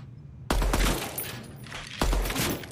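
Gunfire at target practice in the first-person shooter Deadrop comes in two loud, close bursts of rapid shots, about a second and a half apart, over a low background hum.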